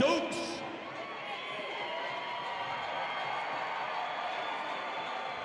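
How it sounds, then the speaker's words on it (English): A packed arena crowd at an Island Fights event roars for a fighter's entrance, a broad sustained cheer that fills the hall at moderate loudness, with a commentator's voice over it. "Nice pop from the crowd for our main man, Corey Stokes"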